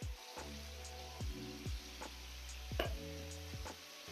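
Minced-meat meatballs sizzle steadily in a frying pan as a utensil scrapes and stirs them in repeated clicks, a close, even frying hiss with no voices.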